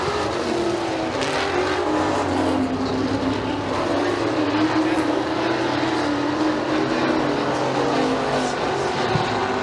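Pure Stock race cars roar around McKean County Raceway, a continuous loud engine drone of several cars at once that stays steady as the field runs down the front stretch, with no talk over it.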